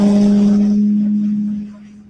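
A loud, high-pitched electric motor whine with a steady tone from a 12S electric RC plane passes close by, then fades away over a couple of seconds.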